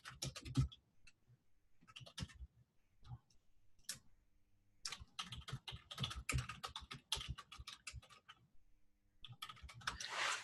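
Close, crisp keystrokes on a computer keyboard as a conversation title is typed, starting in short scattered bursts and then running into a fast, steady stream of clicks with no talking.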